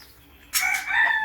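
A rooster crows loudly and close inside a chicken coop, a single drawn-out call rising out of steady background hiss.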